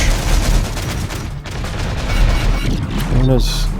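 Gunfire and heavy explosions from the war video game Terminator: Dark Fate - Defiance, including artillery: loud, close bursts of rapid shots and booming blasts packed densely together, with a voice briefly heard among them.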